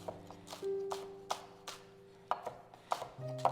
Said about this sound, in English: Finely chop 2 sticks of green onions.